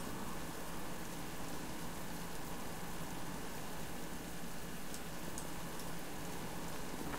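Continuous downpour in the survival game Subsistence, a broad, unbroken wash of raindrop noise holding at one level throughout, with a few faint ticks on top and no talking.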